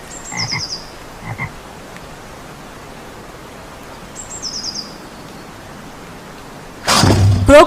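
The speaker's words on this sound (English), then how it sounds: "Frog." A frog croaks in a few short bursts, two close together near the start and one later, faint over quiet background hiss, before a louder rustling burst at the end.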